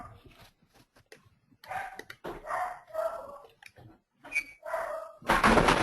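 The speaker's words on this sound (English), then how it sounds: "Shut the dog up and then start again." A dog barks in the background of an online conference call, several short, fairly loud barks coming in separate bursts, with a burst of broadband noise at the end.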